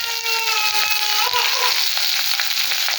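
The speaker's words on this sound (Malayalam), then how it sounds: "നമുക്ക് കടുക് കൊട്ടി സ്വല്പം സ്വല്പം കറിയാപ്പില ഇട്ടു അതെ സവോള ഇങ്ങനെ കൊടുക്കുകയാണ്" Sliced onions with mustard seeds and curry leaves sizzling in hot oil in a pan, a loud, continuous close frying hiss with faint stirring.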